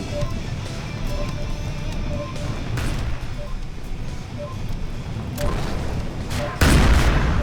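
A Postal 4 game explosion bursts out near the end, a loud broadband blast after a stretch of busy gunfire-like background and scattered clicks, with a voice talking.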